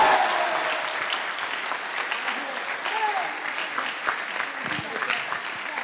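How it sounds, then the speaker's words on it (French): A crowd applauds at a political rally in Lomme, France, producing steady, dense clapping that holds at a fairly loud level throughout, with faint voices underneath. "On applaudit Marianne encore, s'il vous plaît, là."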